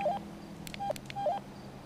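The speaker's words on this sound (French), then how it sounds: "Si tu nous entends sur la radio Jason, tu fais 2 bips." Two short electronic radio beeps in a video game, spaced about three-quarters of a second apart, with a third brief tone just after; clear but modest in level over a low background hum, with no talking.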